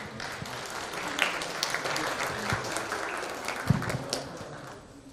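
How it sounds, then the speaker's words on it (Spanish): A seated audience at a university book presentation applauds warmly to welcome a speaker, a dense, steady clapping that carries for several seconds before thinning out at the end. "a quien recibimos y damos la bienvenida con un fuerte voto de aplausos"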